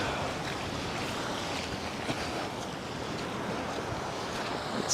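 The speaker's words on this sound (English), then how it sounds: "Nice little wave coming in." Choppy ocean surf at Waikiki washes in steadily, a continuous broad rushing roar mixed with wind buffeting the microphone, with no voices over it.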